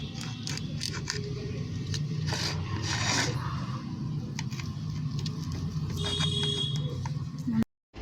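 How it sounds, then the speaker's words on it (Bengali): A knife cuts through a homemade, yeast-free, oven-free pizza on a plate, giving soft rasping and scraping strokes at close range that stop abruptly near the end. "আমি এখানে ছুরি দিয়ে পিৎজাটা কাটছি"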